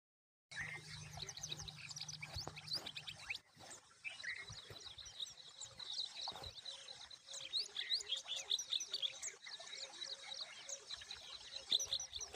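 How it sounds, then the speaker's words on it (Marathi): Many sparrows chirping in busy, overlapping bursts, fairly close, with a soft wash of flowing water beneath and no talking. "आणि चिमण्या पण ओरडतात. त्यांचं दाखवतो तुम्हाला."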